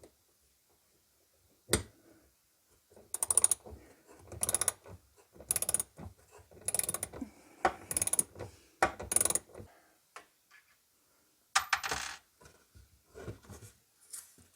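Screws being worked loose and pulled from a cupboard part, a series of short clicking, ratcheting bursts separated by pauses, close and moderately quiet.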